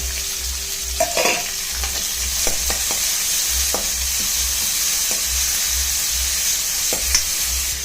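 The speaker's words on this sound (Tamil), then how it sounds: "இப்போ இந்த வெங்காயத்தை போட்டுருங்க" Onion fries in oil with coriander seeds, fennel, cinnamon and cloves for a pea and potato kurma, a continuous close sizzle with scattered ladle clinks and scraping strokes against the pan.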